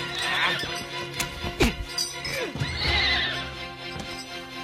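A carriage horse stuck in a hole neighs and whinnies loudly several times, with hoof clops and scuffling between calls, set in a dramatized scene.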